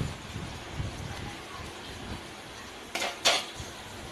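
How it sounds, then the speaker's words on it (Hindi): A spoon stirs yogurt into masala in a pan while cooking masala bhindi, over a quiet low simmer, ending in a few quick metallic scrapes and clinks of spoon against pan. "एक जगह डाल के इसे इस तरह चम्मच से हिलाएंगे कि ये मिक्स भी हो जाए और फटे भी नहीं।"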